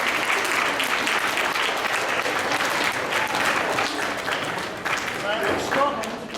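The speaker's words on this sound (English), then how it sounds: "Give it a round of applause." Audience applause follows a violin performance of Scottish fiddle music at a school assembly, a dense, steady wash of clapping that stays loud throughout with faint voices mixed in.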